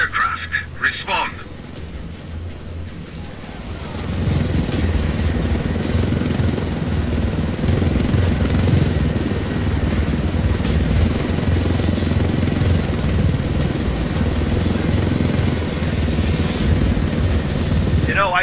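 Helicopter in the video game Ghost Recon Wildlands, a steady loud rotor drone that swells after a few seconds and continues throughout, with voices talking over it.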